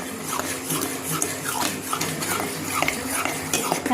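Cream being stirred in a pressure cooker to churn butter gives a continuous scraping and sloshing, with a metal spoon clattering against the pot in quick irregular strokes, close and fairly loud with no talk.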